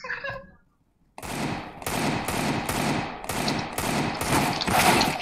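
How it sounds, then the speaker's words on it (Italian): A rapid series of loud gunshots in CS:GO, in bursts after a short pause, continuing steadily to the end. "sparo 40 colpi e non muore mai"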